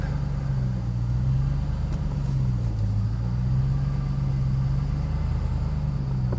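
A 700hp RAM TRX truck's engine rumbles low and steady while crawling up a steep climb, a continuous droning throb with no break and no voices.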